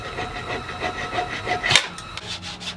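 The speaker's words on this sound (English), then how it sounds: "I'll use a flush trim saw to trim the dowels flush with the surface." Short rasping back-and-forth strokes of a fine flush trim saw cutting wooden dowels flush with a surface, close up, with a brief sharper scrape near the end.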